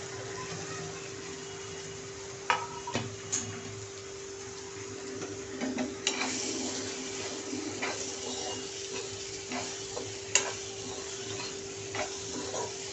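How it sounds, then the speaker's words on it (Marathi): Horse gram (hulga) is sautéed in oil in a pan with softened tomatoes, giving a low steady sizzle with scattered clinks and scrapes of a spoon stirring, close and moderately quiet against a constant background hum. "आता आपण ह्याच्यामध्ये हुलगे टाकणार आहोत आणि परतून घेणार आहोत छानपैकी।"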